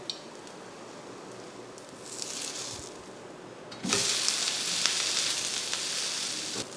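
Wheat rava onion dosa sizzles on a pan as oil goes on top: a low hiss that rises briefly, then swells into a louder, bright, steady sizzle through the second half.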